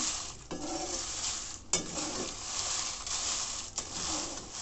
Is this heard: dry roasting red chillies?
yes